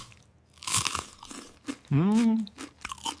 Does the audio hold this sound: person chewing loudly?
yes